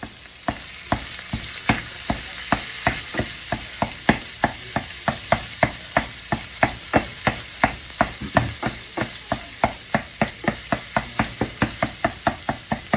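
Sausage breaking apart and frying in a pan for Southern biscuits and gravy: a steady sizzle with a long run of regular sharp scraping taps from a utensil chopping at the meat, close and moderately loud.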